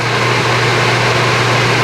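A Wen 3-speed air filter fan runs on its high setting, giving a loud, steady rush of air with a low motor hum underneath, with no talking.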